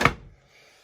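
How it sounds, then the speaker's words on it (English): A small wooden door on a bluebird nesting box swings shut with one quick, close thunk that fades into quiet. "Have that driven in, I can close the door."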